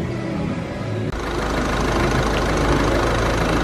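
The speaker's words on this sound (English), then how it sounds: "So I've got the engine running" A 2016 Ford Focus with a new alternator and a battery warning light fault idling up close: an even, continuous engine drone that thickens slightly after about a second and then holds steady, with no voices.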